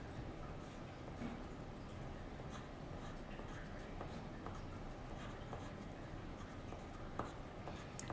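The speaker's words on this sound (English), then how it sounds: "Let me show you how you can draw a tree." Oil pastel scribbles across paper while a tree is drawn, giving a faint, continuous scratchy rubbing with small irregular strokes, close and quiet.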